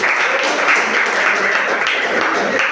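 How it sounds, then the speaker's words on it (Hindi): Dense, steady applause from an audience at a network marketing meeting in a hall, continuous and fairly loud throughout, with no pauses or talk on top. "उनके लिए जोरदार ताली होना चाहिए"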